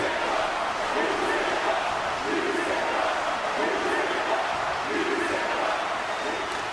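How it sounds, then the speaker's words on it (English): A wrestling crowd at an SWF WrestleMania show reacts to a brutal attack, with a bloody light-tube stabbing and stomping in the ring, as a loud, dense roar that holds steady throughout. "Listen to the crowd here."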